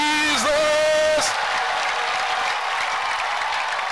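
A church congregation claps together as an offering during a lively service, a dense, steady wash of applause filling the space after a brief sung or shouted voice at the start.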